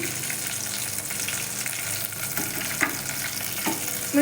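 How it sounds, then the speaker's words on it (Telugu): Green chillies fry in a couple of spoons of oil in a pan, a steady close sizzle with a few sharper pops and crackles near the end, with no voices over it. "వాటిలో పచ్చిమిర్చి ఫ్రై చేసుకోవాలి"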